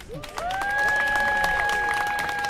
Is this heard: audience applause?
yes